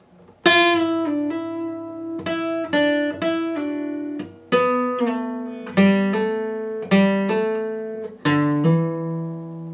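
Electric guitar plays a riff at a lesson pace, a run of clean plucked and hammered notes in a steady rhythm, each attack ringing out and decaying before the next, with no talking.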